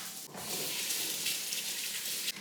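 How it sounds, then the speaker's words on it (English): Tap water runs steadily into a container holding strawberries and a little baking soda, a close, continuous hiss and splash lasting a couple of seconds. "I'm gonna fill this up with water"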